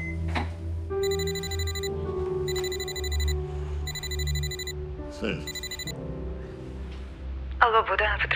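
A telephone rings in repeated electronic bursts, four or so rings with short gaps, over a steady low hum and some background voices.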